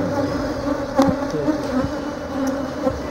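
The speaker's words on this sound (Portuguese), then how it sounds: "Olha com tanta abelha." A swarm of Africanized honey bees buzzes steadily and densely close by while a hive is being opened to pull honey frames, a continuous droning hum with a few louder passes near the listener.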